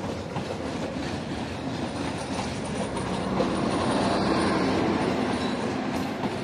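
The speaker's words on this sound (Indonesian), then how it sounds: "tadi kereta api Argo Parahyangan sudah diberangkatkan" Argo Parahyangan passenger train passing at close range in Indonesia, a steady loud rumble of wheels and carriages with rhythmic clacking and faint wheel squeal throughout, no voices.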